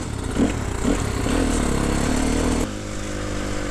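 Sherco 300 trials motorcycle being ridden, its engine droning and rising with throttle, then shifting to a steadier lower tone, loud and close with no talk.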